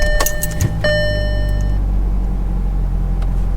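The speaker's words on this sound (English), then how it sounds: "Start the car." A convertible Volkswagen Beetle's engine cranks and catches, with a brief chime and clicks at the start, then settles into a steady low idle rumble.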